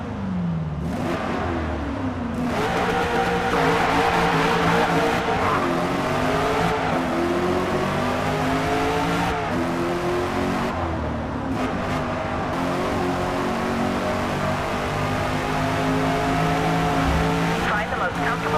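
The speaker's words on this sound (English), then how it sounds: "So quite a lot of different car sounds to listen to and just see how good do they sound within this game." A Chevrolet Corvette E-Ray engine in Forza Motorsport revs and accelerates through gear changes, rising and falling pitch repeatedly, loud and close throughout.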